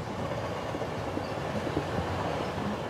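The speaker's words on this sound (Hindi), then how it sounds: "लगता है रेल चलने लगी है" A passenger train rumbles steadily as it begins to move, a broad continuous low roll with faint rail clatter, close and unbroken throughout, no voices over it.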